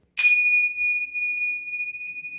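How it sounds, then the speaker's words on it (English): Tingsha bells are struck together once to open a yoga class, a sharp bright clash followed by a pure, ringing tone that sustains and slowly fades over about two seconds in a quiet room. "I decided to take my tingsha bells to strike"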